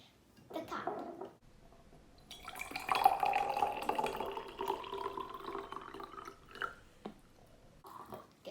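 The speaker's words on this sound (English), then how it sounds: "we'll pour the water into the cup." Water is poured into a cup for a children's gummy bear science experiment, a steady close trickle lasting several seconds while a person talks over it.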